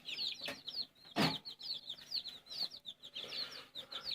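Many small hatchling chicks peep in rapid, high-pitched chirps close by, with a few soft thumps and rustles among them.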